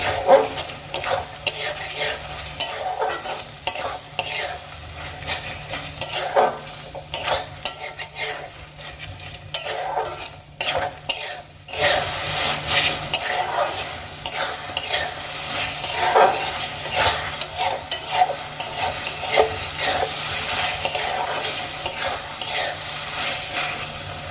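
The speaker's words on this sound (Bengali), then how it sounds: "এবার মশলাগুলোকে চিকেনের সঙ্গে আমি আরও কিছুক্ষণ কষিয়ে নেব" Chicken sautéed with spices in a pan, Bengali style, sizzling under repeated stirring, with utensil scrapes and clanks against the pan throughout and a brief pause midway.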